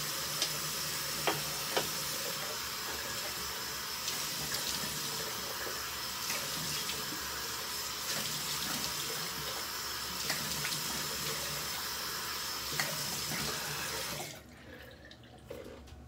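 Water runs steadily from a bathroom tap while someone splashes it on their face, a close, constant hiss with a few splashy clicks, then the flow cuts off near the end and the room goes quiet.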